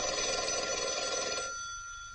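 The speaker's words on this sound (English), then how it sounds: "Your phone's ringing." An old-fashioned telephone bell rings continuously and fairly loudly, then cuts off and leaves a fading tail, in a 1950s film scene.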